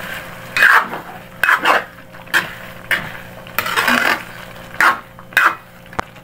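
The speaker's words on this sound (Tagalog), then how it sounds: "Then, mix lang natin ito." A spoon clanks and scrapes against a cooking pot in repeated irregular strokes while pork afritada is stirred with pepper and sugar. The strokes are close and distinct, with quiet gaps between them.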